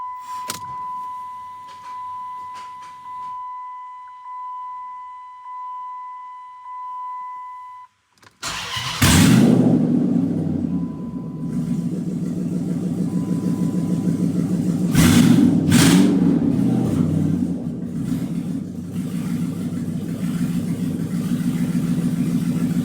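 A Chrysler 300C with a 5.7 Hemi V8 running open manifolds cranks over after a rhythmic chiming warning tone and several seconds of near silence, then fires up into a loud, raw, rumbling idle with a couple of sharp revs, close by and without talk.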